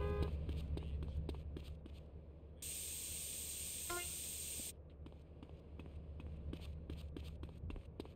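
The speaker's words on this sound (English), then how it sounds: "I want to lock on and circle to spray the tack." Aerosol spray paint hissing as a gang tag goes onto a wall in the video game GTA San Andreas: one steady, loud two-second burst over continuous game background sound.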